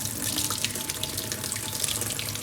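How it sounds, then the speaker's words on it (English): Water gushing hard from a tap under strong pressure on a house fed by a deep well pump, a loud continuous hissing rush with no pause or talk. "I took the tap off and so much crap came out and so much pressure."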